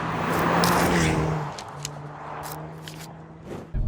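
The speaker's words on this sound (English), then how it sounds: "Some serious turbo noises going on here." A Hyundai i30N turbocharged engine hums steadily with a low drone, easing off midway and then resuming, with faint turbo whooshing and scraping noises on top.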